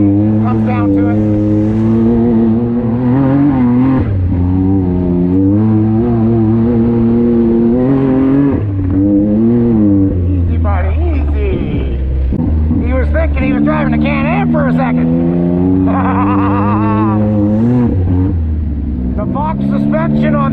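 Honda Talon X side-by-side off-road vehicle being driven, a loud steady engine drone with shifting pitch throughout, while people talk over it.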